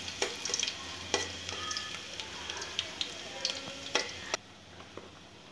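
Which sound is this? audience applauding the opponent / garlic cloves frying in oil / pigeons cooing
garlic cloves frying in oil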